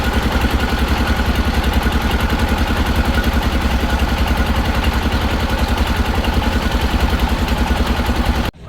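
A trawler boat's engine runs loud and steady on the way to Sadapathar near Sylhet, chugging in a continuous rhythmic throb with a clattering edge that cuts off at the very end.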